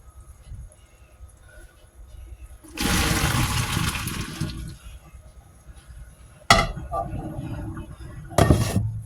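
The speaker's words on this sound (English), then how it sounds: "I'll put the camera over here so I can drain it in the sink" Cooked spaghetti water drains into a kitchen sink in two or three pours: a loud broadband gush of water lasting about two seconds, then two shorter splashes with a clink of the pot, over quiet kitchen background.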